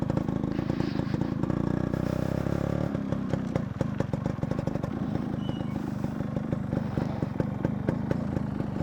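Yamaha RX100 two-stroke motorcycle engine running steadily, close and loud, with a rough, clattery mechanical texture and no talk over it.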